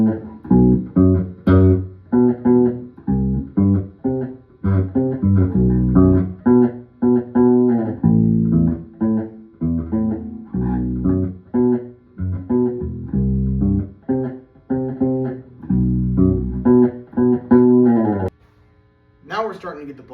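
Bass guitar jamming on the first few notes of a scale, playing short plucked phrases in a loose rhythm with brief pauses, close and fairly loud, with a distorted effect on the tone and a low hum at the end.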